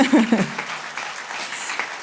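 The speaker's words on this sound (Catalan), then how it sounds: "Un aplaudiment abans, ja vindrà després" Short burst of audience clapping at a Catalan music and poetry event in Roussillon, following a voice at the start and then settling into steady, moderate applause.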